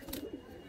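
Caged pigeon squabs at a loft of high-flying Kalodana and Andhra pigeons give a soft, brief coo, faint and close under low background noise.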